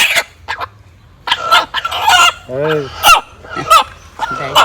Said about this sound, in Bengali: বাড়ির মুরগি পোষা মুরগি